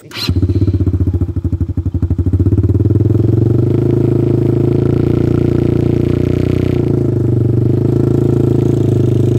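A 200cc ATV engine revs loudly and close during an off-road ride in Kalimpong, a rough throbbing drone that climbs and holds steady with a rattling edge.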